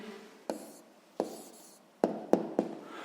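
A pen or pencil scratches on paper while a maths answer is written down, giving five quiet, separate strokes with faint rustle between them.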